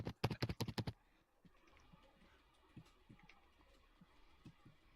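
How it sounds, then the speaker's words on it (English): A quick burst of loud computer keyboard keystrokes, about eight rapid clicks, is followed by faint scattered key taps over low background noise. "His mic is his keyboard."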